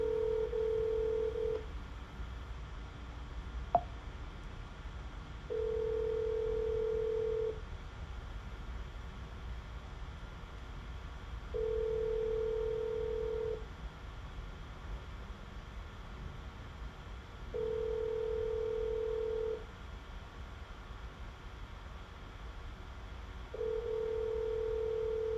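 Outgoing sales call ringing on a telephone line, a steady ringback tone sounding in evenly spaced bursts about two seconds long, repeating five times over faint line hiss.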